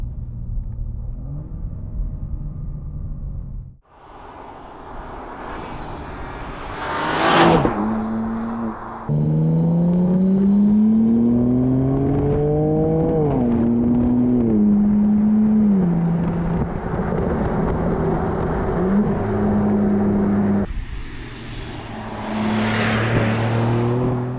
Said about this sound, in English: You can hear those twin turbos spooling up and then blowing off the turbo pressure when you come off the throttle.